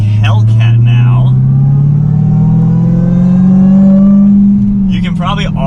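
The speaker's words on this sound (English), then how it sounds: "You can probably already hear the supercharger whine." A Dodge Challenger SRT Hellcat with a supercharged HEMI V8 pulls away from inside the cabin: a loud, deep engine rumble climbs steadily in pitch with a rising supercharger whine, and brief voices sound at the start and end.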